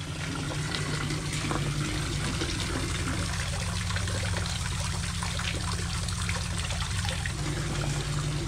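Steady trickling and pouring spring water runs continuously, a close, even stream filling a water container with a low engine-like hum underneath, in the Pyrenees in Spain.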